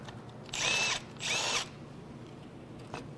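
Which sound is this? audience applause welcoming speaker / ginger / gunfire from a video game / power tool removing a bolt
power tool removing a bolt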